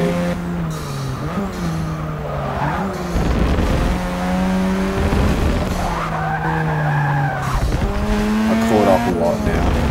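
Race car drifting in Forza Motorsport 6 in rain, the engine revving up and down through gears while tires squeal in several long skids, loud and close, with a voice talking over it.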